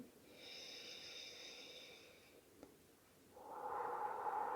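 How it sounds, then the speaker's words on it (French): Slow, quiet relaxation breathing, close by: a drawn-out inhale through the nose, a brief pause, then a longer, breathy exhale out through the mouth, with no talking. "Vous inspirez par le nez, et vous expirez par la bouche"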